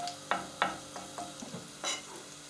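Garlic and spinach sizzle quietly in a pan, a soft frying hiss broken by a few sharp clicks and scrapes of stirring and a brief louder splash of sizzle.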